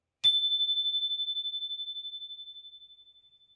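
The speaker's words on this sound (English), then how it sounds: "let me hit the chime again and be quiet" A chime is struck once and rings out as a clear, steady tone that decays slowly over several seconds in a quiet room.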